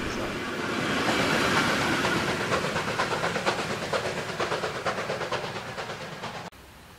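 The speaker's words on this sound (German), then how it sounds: "Dieser Ausfahrt der 41360 aus dem Bahnhof von Altenberge kann von zu wenig Druck jedenfalls nicht die Rede sein." Steam locomotive 41 360 pulls out of Altenberge station in Germany's Münsterland, a loud, steady roar of hiss and rail noise with rhythmic exhaust chuffs quickening as it departs, cutting off abruptly at the end.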